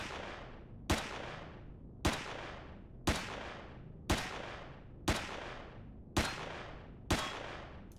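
Pistol fire in the space survival game Empyrion Galactic Survival: eight sharp, evenly spaced single shots about one second apart, each with a short decaying tail, loud and alone with no talking.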